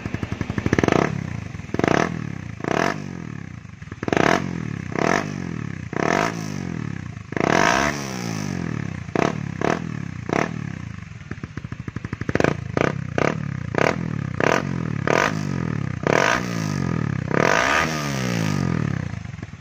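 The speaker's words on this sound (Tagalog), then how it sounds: "yan yung tunog ng pipe natin" A Raider 150 Fi motorcycle with a big-elbow exhaust pipe is revved repeatedly, sharp rising bursts of throttle separated by brief idle dips, loud and close.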